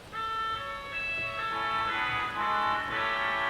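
Wurlitzer theatre organ playing its 8-foot saxophone reed stop, a reedy, buzzy sustained tone moving through a short series of held notes and chords, close and steady.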